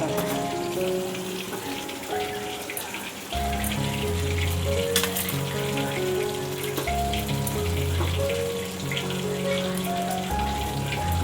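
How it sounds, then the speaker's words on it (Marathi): Fried chicken roasting on low heat in a pan on a gas stove, a continuous crackling sizzle running under music for the whole stretch. "आपण हे आता चिकन फ्राय करून घेतलेलं आहे ना, त्याला आता आपल्याला रोस्ट करायचं आहे"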